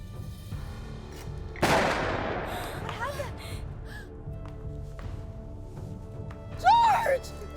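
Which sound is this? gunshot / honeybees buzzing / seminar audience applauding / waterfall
gunshot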